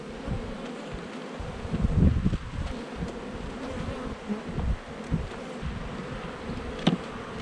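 Honey bees buzz in a dense, continuous drone around an open hive after a nuc split while the frames are reloaded, with occasional rustling and handling noises close by.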